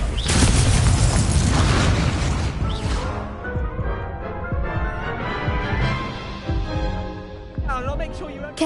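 An Incendio fire spell bursts in Hogwarts Legacy with a loud, booming blast at the start, its roar slowly fading over several seconds beneath ringing game effects and music.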